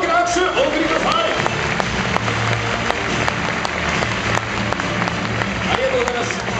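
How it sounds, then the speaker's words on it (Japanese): Sustained applause from a crowd greeting nine newly signed players at a Kyoto Sanga F.C. club presentation event, dense steady clapping throughout with some murmur beneath. "改めて大きな拍手お送りください。"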